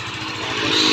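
Kawasaki Barako II motorcycle, new and being broken in, engine running steadily while ridden toward a tunnel climb, a close, continuous low throbbing drone with wind noise that grows slightly louder.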